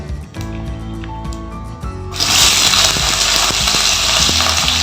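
Washed, cut flat beans hit hot oil in a pan and burst into a loud, steady sizzle partway through, after a quieter opening with soft, music-like tones.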